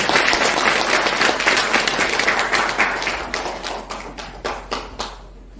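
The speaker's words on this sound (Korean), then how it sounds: "박수 한번 부탁드리겠습니다" An audience applauds at a political forum at the Kim Dae-jung Nobel Peace Prize memorial hall, with dense, loud clapping that thins into fewer, more distinct claps and fades out toward the end.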